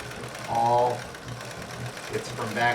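A heavy-duty all-metal Pfaff 230 sewing machine running during free motion quilting on a quilted bag, a moderate mechanical whir with gear and ratchet ticks, steady and fairly close, a voice talking over it at times.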